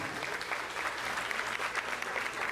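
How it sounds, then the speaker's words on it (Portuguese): An audience at a hypnosis show claps steadily, a dense, even round of applause that fills the room close up without a break. "Uma salva de palmas para os nossos astros."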